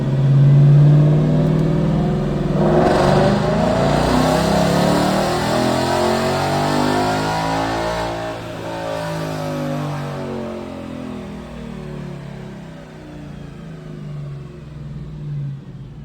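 A 2017 Ford Mustang GT with longtube headers, tuned for E85, revs hard through a dyno pull. The engine climbs in a loud, steady, swelling roar, then falls back and settles into a lower rumble.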